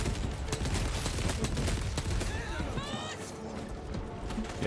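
Sniper fire and other gunshots crack through a chaotic Warhammer Space Marine 2 battle, dense and loud under constant combat noise, with a voice talking briefly.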